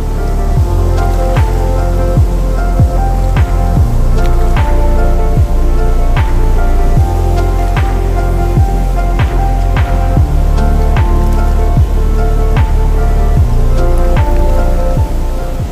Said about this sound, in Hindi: पानी की रफ्तार बहुत ज़्यादा तेज है यहाँ पर।